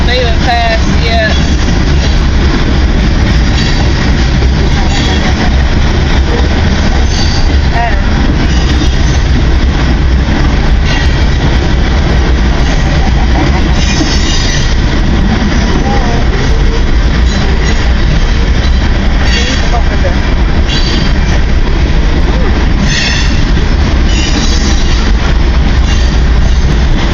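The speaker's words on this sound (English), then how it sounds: "This train in front of us is starting to boogie." Long CN freight trains roll steadily along the tracks nearby, a constant loud rumble of rail cars with wheel clatter and occasional squeals, voices talking over the noise.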